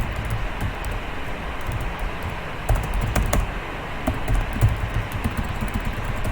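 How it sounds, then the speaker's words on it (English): Typing on a computer keyboard, a quick uneven run of close, crisp key clicks with a few louder taps mid-way, heard over a low steady background hum with no talking. "I type alert again"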